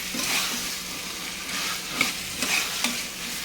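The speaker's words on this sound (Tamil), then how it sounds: "மசாலாவோட ஒரு 5 நிமிஷம் நல்லா வதக்கி விட்டுக்கலாம்" Beetroot and peas sautéing with masala in a pan, a steady close sizzle broken by a few scraping stirs of a spoon against the pan, no voices.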